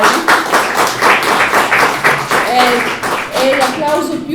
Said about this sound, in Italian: È l'applauso più che meritato